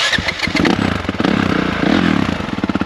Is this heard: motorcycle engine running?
yes